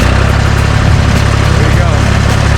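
A vehicle engine idling loudly and steadily with a low rumbling drone, close to the listener and filling the whole clip.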